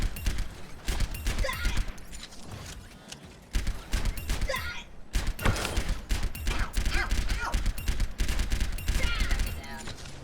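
Soldier 76's rifle fires in Overwatch in rapid, tightly spaced bursts of sharp cracks, loud and continuous throughout, with brief gaps between volleys.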